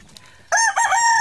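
A pea-comb gamecock rooster crows loudly and close by. After a brief quiet moment, a single strong cock-a-doodle-doo call with a short break in the middle.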